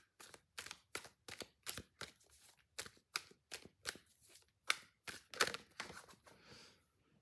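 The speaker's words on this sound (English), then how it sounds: "I was shuffling and this fell out." Tarot cards being shuffled by hand close up, a quiet series of about fifteen crisp riffling bursts in an irregular rhythm, alone with no talking.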